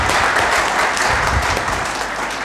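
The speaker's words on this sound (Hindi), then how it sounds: "तो इन नौजवान साथियों को लिए एक बार जोरदार ताली बजाएं।" A crowd at an Indian social organizations' gathering applauds loudly and steadily, a dense unbroken wash of clapping filling the whole stretch.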